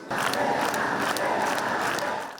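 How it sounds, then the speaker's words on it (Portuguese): A crowd at the Theatro Municipal applauds and cheers as the singer's body leaves, a sustained blended roar of many voices and clapping, steady and fairly distant, fading slightly at the end. "Sob aplausos, o corpo da cantora deixou o municipal no início da tarde."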